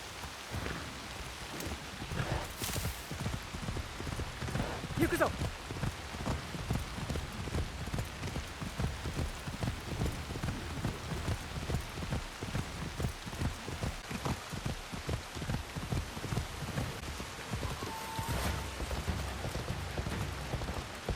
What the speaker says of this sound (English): you load back in and it's raining now